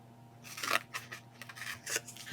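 Scissors snip through roll tape for a gift tag, with several close, crisp cutting strokes in an uneven rhythm over a quiet background.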